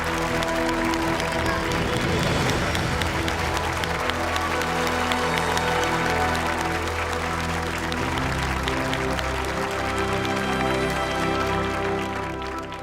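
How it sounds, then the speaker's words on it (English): Audience at a competition final applauding two finalists, a sustained wash of clapping with some faint crowd noise, steady and fairly loud for the whole stretch, tapering slightly at the end. "please let's have a huge round of applause for our remaining 2 finalists, Mahesh and Aiden."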